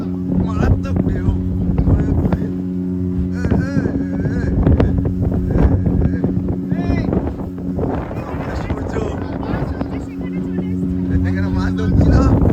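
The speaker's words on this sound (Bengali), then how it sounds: "মারাত্মক ঢেউ" A boat rides rough waves far out at sea among other fishing boats, its engine droning steadily under heavy wind buffeting the microphone, while someone talks over it throughout.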